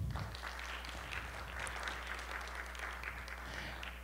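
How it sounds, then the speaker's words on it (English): A lecture audience applauds in a soft, steady wash of clapping that holds evenly for a few seconds, faint and somewhat distant. "Please give these folks a round of applause."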